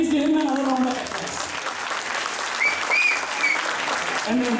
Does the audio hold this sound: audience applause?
yes